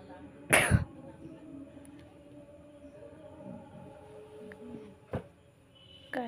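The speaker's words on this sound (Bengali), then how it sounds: "কাশি হচ্ছে ভীষণ" A person coughs once, a short loud burst near the start, with a second fainter cough later, set against quiet kitchen background noise and some low talk.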